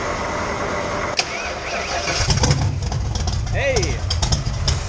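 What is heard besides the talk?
1979 Mustang engine cranking and starting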